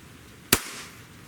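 A single sharp crack from a Beeman 2027 multi-shot PCP air pistol, loud and close, with a brief decaying tail in an otherwise quiet space.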